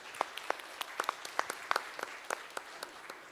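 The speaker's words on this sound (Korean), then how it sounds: "큰 박수로 무대로 모셔볼게요" An audience at a forum on science and climate applauds to welcome a speaker to the stage, a light scattered clapping of moderate size heard up close for a few seconds.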